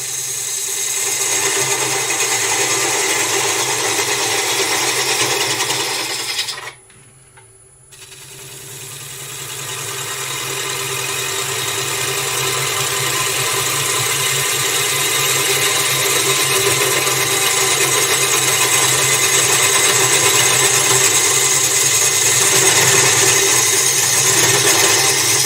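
A woodturning lathe spins steadily with a gouge fed through the wood, a continuous loud motor hum and cutting noise that briefly drops out, then returns and keeps running without speech.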